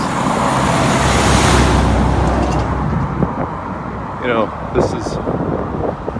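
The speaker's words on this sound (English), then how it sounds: "And you see a semi truck coming up here." Heavy highway traffic roars along a state road corridor as a semi truck approaches, a loud, continuous rumble swelling and easing with wind buffeting the microphone and a person speaking over it.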